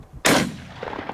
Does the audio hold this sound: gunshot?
yes